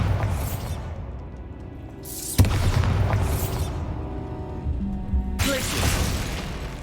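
A sudden heavy boom and crash of the Bombarda spell blast in Hogwarts Legacy on PS5, followed by sustained rumbling debris and bright whooshing bursts, loud and close.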